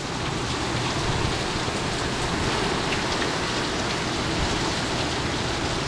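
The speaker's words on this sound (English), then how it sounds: "That's the wind howling through the trees." Steady, roaring wind howling through trees during Tropical Storm Fred, a continuous broadband rush mixed with heavy rain, loud and unbroken with no voices.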